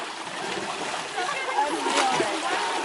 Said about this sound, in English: You pick up the mud and put on the elephant.